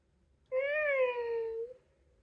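A Ropet robot pet gives one clear, drawn-out electronic meow lasting about a second, close and fairly loud against a quiet room.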